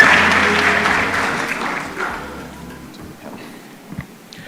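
A round of applause from the audience at the Kenya National Research Festival 2024, loud and dense at first, then fading over a few seconds into scattered light claps.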